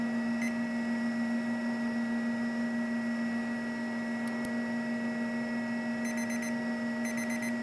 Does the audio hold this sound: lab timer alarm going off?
yes